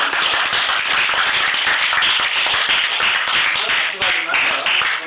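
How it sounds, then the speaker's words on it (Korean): Meeting attendees at the founding assembly of a Buddhist society, held at a temple, give sustained applause, a dense and even rattle of many hands clapping that fills the whole stretch at close range. "박수 한번 쳐주세요."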